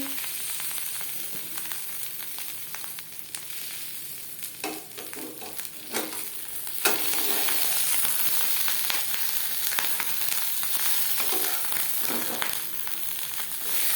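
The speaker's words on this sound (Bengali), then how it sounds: "প্রথম দু তিন মিনিট মিডিয়াম ফ্লেমে ভেজে নেওয়ার পর গ্যাসের ফ্লেমটাকে লোতে করে দেব" Vegetarian jackfruit paturi parcels fry in a pan on a low gas flame, giving a continuous close sizzle with crackles and occasional stirring or shifting sounds, steady throughout without talk.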